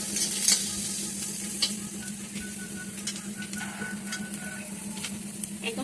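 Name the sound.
fish frying in pan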